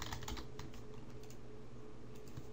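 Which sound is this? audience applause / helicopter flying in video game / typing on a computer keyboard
typing on a computer keyboard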